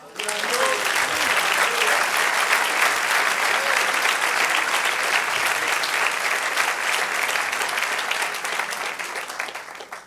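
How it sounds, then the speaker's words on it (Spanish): A large church congregation applauds loudly and steadily for several seconds, the clapping dense and sustained before tapering off toward the end. "Denle otro aplauso."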